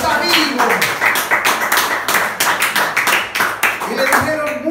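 A church congregation claps energetically for several seconds during a Spanish-language Easter sermon, dense overlapping hand claps with a voice speaking over the clapping.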